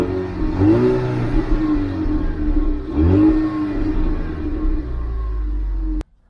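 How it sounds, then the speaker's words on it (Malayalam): A classic Ford Mustang convertible muscle car with dual exhaust revs twice in deep, throaty bursts, settling into a low rumbling idle between them before cutting off abruptly, heard close up. "അപ്പോൾ എക്സോസ്റ്റിൽ നിന്ന് വരുന്നുള്ള മനോഹരമായ ആ എൻജിൻ നോയ്സ് എങ്ങനെയുണ്ട് നമുക്കൊന്ന് നോക്കി നോക്കാം."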